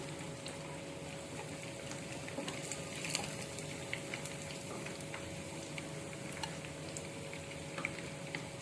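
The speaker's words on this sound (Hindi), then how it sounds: "फ़िश हमारी बहुत ही अच्छे से फ्राई हो गई है" Fish sizzles steadily in hot oil in a pan as it turns crispy for a Lahori fish fry, a constant close frying hiss with faint crackles and pops and no talking.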